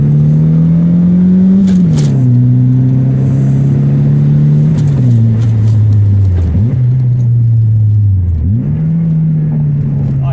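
An MK2 Volkswagen GTI accelerates hard through the gears, a loud close engine roar climbing in pitch with three quick dips at the shifts, and a voice speaks faintly beneath it.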